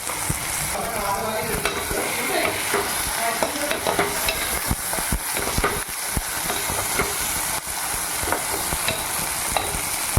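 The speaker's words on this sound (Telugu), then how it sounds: "బెండకాయలు వేగాక ఇప్పుడు బెండకాయలు వేగినాయి" Cut okra frying in a pan with turmeric, giving a steady close sizzle with repeated scraping and stirring strokes, and no talking.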